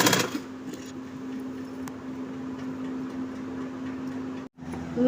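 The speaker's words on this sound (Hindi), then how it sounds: "ब्लाउज को सीधा रख के पट्टी को हल्का सा खींचते हुए मशीन चलाते जाएंगे।" A sewing machine runs steadily while stitching a border strip onto a blouse, its motor giving a continuous even hum with a faint ticking rhythm, briefly stopping near the end before starting again.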